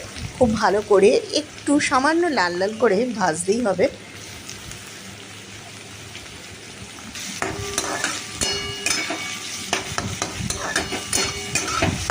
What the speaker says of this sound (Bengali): এগুলো একটু ভালো করে ভাজা হয়ে যাবার পর তারপর পেঁয়াজগুলো দিয়ে দিলাম